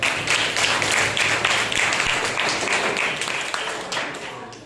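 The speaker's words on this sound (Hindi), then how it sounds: "आइए हम सच्चे और जिंदा परमेश्वर के लिए जोरदार तालियां हो जाए" A church congregation claps for God during a Sunday service, a dense burst of many hands at full strength that slowly thins and fades away by the end.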